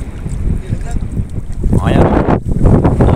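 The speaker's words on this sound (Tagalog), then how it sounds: "Pero ang lakas pa rin ang hangin." Strong wind at sea buffets a small fishing boat, roaring and gusting loudly against the microphone with water slapping and sloshing around the hull, rising in force toward the end.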